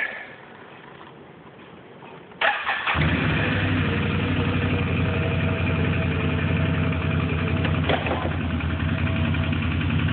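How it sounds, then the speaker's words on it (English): A quad ATV engine, quiet at first, starts with a sudden jump in loudness and then keeps running loud and steady as the quad is driven, close by and uninterrupted. "I'm going to be driving the quad with uh, one hand"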